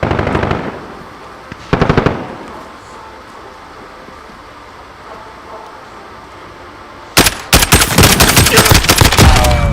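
Automatic gunfire in the video game Modern Warfare: a short burst, another brief burst, a long lull, then a loud sustained volley of rapid shots up close.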